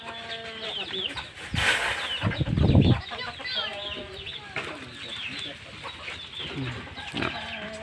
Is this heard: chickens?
yes